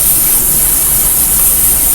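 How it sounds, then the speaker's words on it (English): Aerosol hairspray hisses in a steady, close, continuous burst as a wig gets a good layer sprayed on, loud and unbroken for the whole two seconds with no talk. "good layer of spray."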